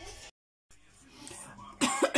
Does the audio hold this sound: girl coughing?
yes